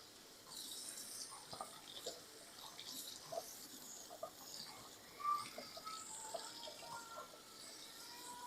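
Cool to warm water runs from a kitchen tap, a faint, steady trickle and splash over several seconds with scattered small drips and clinks, quiet and nearby with no talking.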